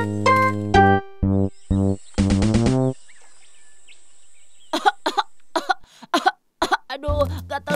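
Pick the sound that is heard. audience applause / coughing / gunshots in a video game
coughing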